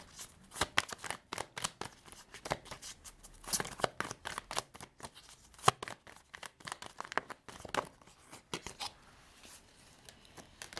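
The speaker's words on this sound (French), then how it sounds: "je remue les cartes, mais je ne leur demande rien" Tarot cards shuffled by hand close up, quick papery riffles and slaps in an irregular, ongoing rhythm, fairly soft.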